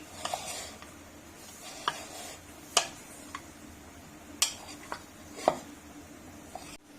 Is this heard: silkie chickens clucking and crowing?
no